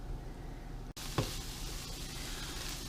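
Chip dip cooking in a skillet over a medium flame gives a low, steady sizzle, broken by a sharp click and then a short scraping stir, before the quiet frying carries on.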